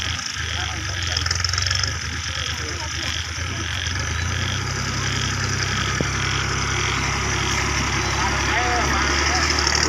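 A tractor engine idles with a steady low rumble that runs throughout, close and constant, while people talk over it, at a spot where a trailer is stuck in mud.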